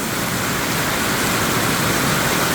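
Rain falls outdoors over a muddy garden plot in June, a dense, even hiss that stays loud and unbroken from start to finish.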